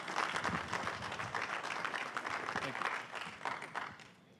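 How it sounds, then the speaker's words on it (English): An audience at a port industry symposium claps for a student walking up to speak, dense moderate applause with scattered individual claps, tapering off at the end. "let's clap for her as she comes"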